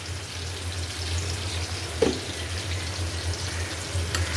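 Onion and vegetables fry in hot oil in a pan, giving a steady close sizzle with one brief clatter midway and no talking.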